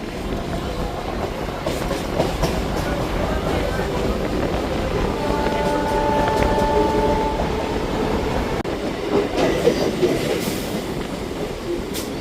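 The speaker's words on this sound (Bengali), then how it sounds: "গোপালনগর স্টেশন ট্রেন আমাদের ছেড়ে গেল।" A local train on the Bongaon line pulls away from Gopalnagar station, heard from on board as a continuous rolling rumble with rhythmic wheel clatter and faint background voices.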